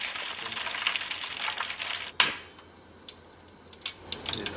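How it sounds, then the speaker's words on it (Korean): Battered melon deep-frying in hot oil, a steady dense crackling sizzle for about two seconds, then a sharp clack and quieter scattered pops and bubbling as the frying continues without any talk. "이제 속은 제대로 익었을 거라 한번 빡빡 튀기는 거"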